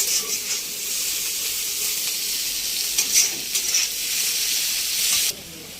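Onions fry in hot oil with a steady sizzle and a few brief louder crackles. The sizzle cuts off abruptly just before the end.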